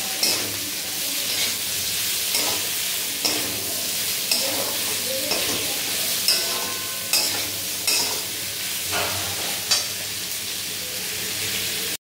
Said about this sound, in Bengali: পেঁয়াজগুলোকে বেশ কিছুক্ষণ নাড়িয়ে চাড়িয়ে এভাবে ভেজে নিতে হবে।